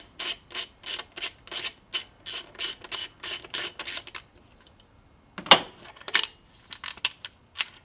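A ratchet loosens the single 10mm bolt on the plastic engine cover of a Subaru WRX, giving a fast run of crisp, close clicks for about four seconds, then a pause and a few scattered clicks and clanks.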